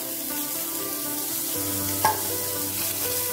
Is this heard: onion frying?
yes